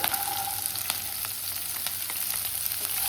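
Garlic, green chilies and finely chopped ingredients for chicken cutlet fry in hot oil, a loud, dense, continuous sizzle with occasional stirring clicks, close up and without talk.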